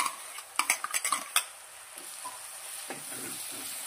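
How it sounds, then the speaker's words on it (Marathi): Onion, coconut, ginger, garlic and green chilli masala paste being sautéed in oil for misal, with a spoon stirring and scraping the pan in a quick cluster of clinks, then a soft steady sizzle. "हे वाटण चांगलं भाजलेलं आहे, पण थोडं तेलावर पण परतून घ्यायचं"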